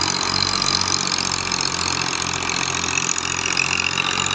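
A brand-new 2023-model thresher runs off a tractor with a steady, loud mechanical drone that holds even and continuous the whole time, close by, with no talking.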